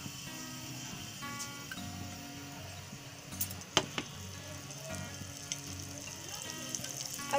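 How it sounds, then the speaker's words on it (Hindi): Butter melts in a pan on a gas stove and sizzles quietly and steadily, with a few light clinks and scrapes from utensils partway through. "अब एक पैन बैठा लिए है गैस पर, अब उसमें मक्खन डाल दे रहे हैं।"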